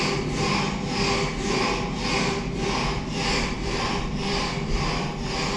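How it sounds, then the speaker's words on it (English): A large mechanical saw cutting wood at the Big Pit mining museum in Blaenavon, rasping in steady back-and-forth strokes about twice a second, loud and close, with no voices. "Quite a big saw there. Some sound effects have just come into life."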